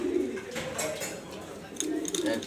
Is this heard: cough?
no